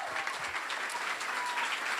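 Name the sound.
audience applause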